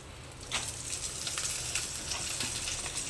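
Green chillies frying in a pan of hot oil give a steady, close sizzle with crackling pops scattered throughout, alone with no voices.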